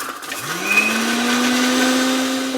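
Mixer grinder blending coriander and green chili chutney, a loud motor whine that rises quickly in pitch as it spins up, then holds a steady churning drone close by with no talking.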